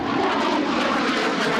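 Military training jets in an air force display flying over an air base, including an AT-3 trainer trailing colored smoke, give a steady, loud, broadband engine roar that holds evenly throughout with no talk.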